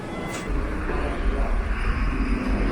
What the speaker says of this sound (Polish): Póki co lądują i startują samoloty.